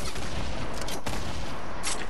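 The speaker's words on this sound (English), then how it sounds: "Where am I getting shot from?" Gunfire rattles in the video game Fortnite, with dense, loud bursts of rapid shots packed close together across a couple of seconds and no talking.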